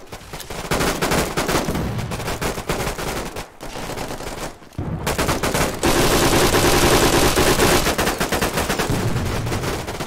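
Sustained machine gun fire in a free tactical shooter video game, loud and dense bursts of rapid shots running almost the whole time with a brief pause midway, close and heavy.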